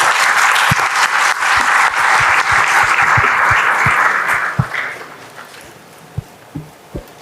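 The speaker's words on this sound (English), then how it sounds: "Please give them a round of applause." Audience applause at a session on annuity pricing fairness, a full crowd clapping loudly for several seconds, then thinning out to a few scattered individual claps that fade away.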